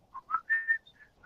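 A person whistles an imitation of a Samsung S6 phone notification tone, a short run of clear rising and falling notes lasting about a second, close and fairly soft with no talking over it.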